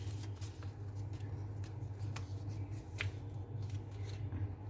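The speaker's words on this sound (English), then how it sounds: "now we're just going to fold this flap in" Origami paper is folded into sunglasses, as a flap is pressed inward, making faint, close paper rustles and soft creasing taps, scattered unevenly over a quiet background. Nobody speaks.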